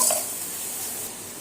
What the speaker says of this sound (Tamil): இதுக்கு மெஷரிங் கப்பில் ஒரு 3/4 கப் அளவுக்கு தண்ணி சேர்த்துக்கலாம்.